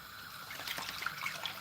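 Hot water poured steadily into a pot for palm nut soup, a soft continuous trickling and splashing stream heard up close and fairly quiet, with no voices.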